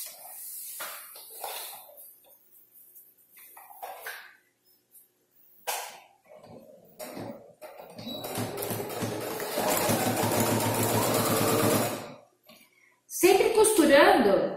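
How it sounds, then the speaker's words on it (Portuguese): A sewing machine stitches a multifunction wallet, running steadily for about four seconds in a dense whirring burst, with scattered handling noises and brief pauses around it. "Aí eu vou me ajeitar direitinho e vamos costurar."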